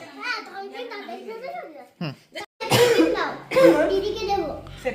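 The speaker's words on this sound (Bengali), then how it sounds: "ওর খুব কাশি হচ্ছে" Someone talks, then gives a few short, sharp coughs close by, followed by more chatter and fussing.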